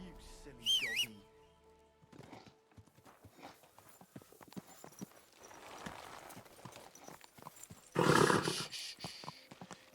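A horse in the Kingdom Come: Deliverance II video game clip-clops along at a steady walk, with a loud whinny near the end and a short whistle early on, over faint game ambience and scattered background sounds.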